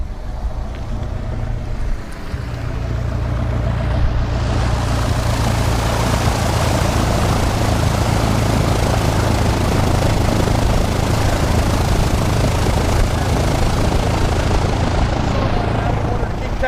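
A small propeller airplane lands and taxis right past nearby, its engine swelling into a loud, sustained roar as people talk underneath it.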